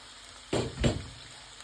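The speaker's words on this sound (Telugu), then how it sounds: "టోటల్గా ఆనియన్స్ మొత్తం వేసుకొని ఫ్రై చేసుకున్నాం" Chopped onions hit hot oil in a pan with two quick bursts of sizzle, close and fairly soft, before settling into a faint steady frying hiss.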